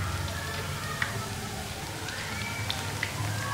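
Thin potato slices fry in oil over a low flame, a continuous soft crackle and sizzle with occasional sharp pops, steady and close.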